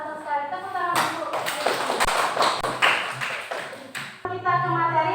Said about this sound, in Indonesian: Tepuk tangan untuk Luna.